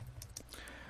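A few light key clicks on a computer keyboard, quiet and close, with a low steady hum beneath and no talking.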